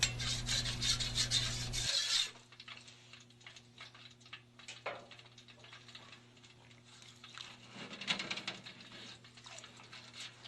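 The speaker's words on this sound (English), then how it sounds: "scrape down the inside of the cooker with a spatula and use the Teflon brush to scrape the heating elements" A spatula and a Teflon brush scrape the inside and heating elements of a Winston Collectramatic fryer: faint, irregular rasping strokes and scratches that follow a loud humming burst at the start.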